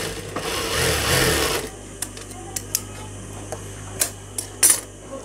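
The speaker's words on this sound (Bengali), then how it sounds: "একটা চাপ সেলাই মেরে নেবেন" A sewing machine stitches fabric with a brief burst of fast, whirring stitching, then falls quiet apart from scattered clicks and taps as the work is adjusted.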